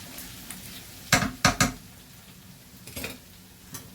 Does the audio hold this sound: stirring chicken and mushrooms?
yes